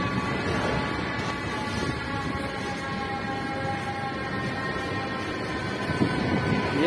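A metro train runs steadily on the M2 or M3 line, giving a continuous rumbling roar with faint tonal whines from the motors, heard from inside the carriage at a constant level.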